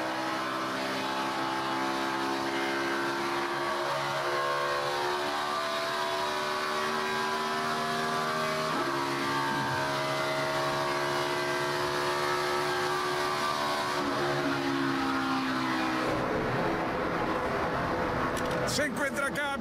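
NASCAR stock cars in the closing laps of the Axalta We Paint Winners 400 at Pocono, engines droning steadily with shifting pitch as cars pass, a continuous roar beneath Spanish-language race commentary.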